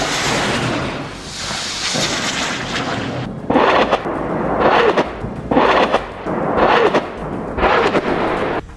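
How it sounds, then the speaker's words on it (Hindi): Rockets launched at night in Gaza followed by a series of explosions: heavy continuous rumbling, then about five separate loud booms spaced roughly a second apart, distant and reverberant, with no talk. "इन रॉकेट्स के फायर होने के बाद वीडियो में कई धमाकों की आवाजें सुनाई दे रही हैं"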